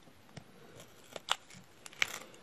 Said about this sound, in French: Là, faut que je redécoupe parce que j'ai pas coupé bien comme il faut.